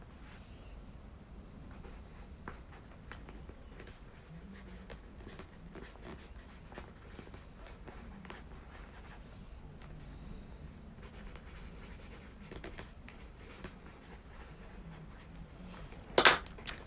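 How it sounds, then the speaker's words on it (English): A pen writes on paper in soft, faint scratching strokes that come in irregular bursts for a long stretch, with a quiet room behind them and a louder clatter near the end. "write down on your paper what you want to eliminate from your life"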